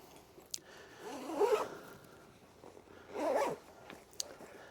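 A zipper drawn closed on a bag holding a hooded sweatshirt, two separate rasping zips a couple of seconds apart with small handling knocks around them, close and clear with no talking.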